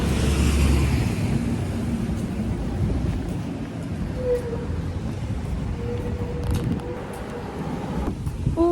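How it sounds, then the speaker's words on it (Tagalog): Wind roars steadily across the microphone as a low, constant rumble, with faint distant traffic underneath and no clear talk. "Ang hangin."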